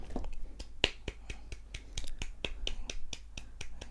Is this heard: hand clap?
yes